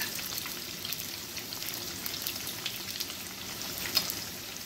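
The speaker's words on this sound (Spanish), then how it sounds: "las hojitas de laurel que se fríen. Vamos de una vez a poner la cebollita." Bay leaves, onion and garlic frying in oil for a Chiapas-style chicken mole, giving a steady, fairly soft crackling sizzle with a few sharper pops, close by and without talk.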